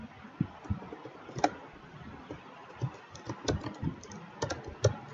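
Typing on a computer keyboard while entering prices in a C++ program, irregular close key clicks with a few sharper, louder strokes like the Enter key, no speech.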